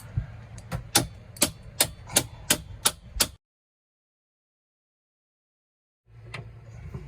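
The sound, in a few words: hammering on a bolt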